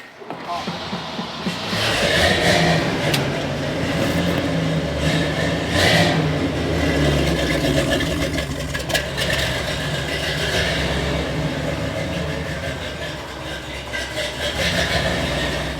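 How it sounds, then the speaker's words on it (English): An off-road 6x6 vehicle's engine revs hard while attempting a burnout, a loud sustained roar with rising and falling surges, close by, with voices talking over it. "Now that we've got brakes, we've got to see if it'll do a burnout."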